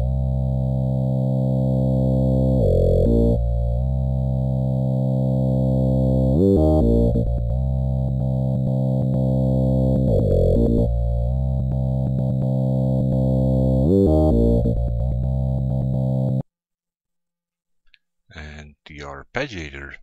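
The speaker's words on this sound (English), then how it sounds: "let's listen to the track with and without the beat repeat" Sustained synth chord progression in Ableton with a Beat Repeat effect stuttering and chopping the sound in rhythmic bursts, loud and continuous, then cutting out abruptly before a few short choppy fragments near the end.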